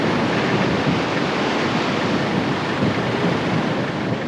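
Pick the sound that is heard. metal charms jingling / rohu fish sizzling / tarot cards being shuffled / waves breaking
waves breaking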